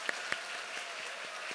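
Scattered hand claps from a church congregation sound through a short, diffuse burst of applause that stays fairly faint and roomy.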